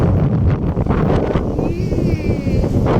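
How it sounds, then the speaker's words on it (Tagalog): Strong, cold night wind gusts across the microphone in Khalidiya, a loud, continuous roaring rush with rustling and buffeting throughout. "Sobrang hangin. Grabe."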